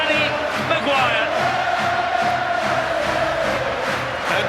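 A large rugby league crowd at Leeds Rhinos v St Helens roars and cheers after a try, a dense, sustained wall of voices with rhythmic chanting pulses, loud and continuous, while a commentator talks over it.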